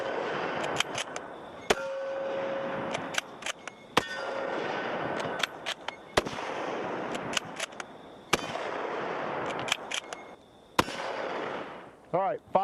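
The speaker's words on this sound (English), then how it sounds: "Larry's going to be shooting the M1 Garand" M1 Garand rifle firing at a range in low light, a run of sharp, loud, close reports spaced irregularly, with an occasional ringing metallic ping and brief muffled talk between shots.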